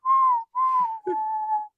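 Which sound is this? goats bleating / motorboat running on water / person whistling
person whistling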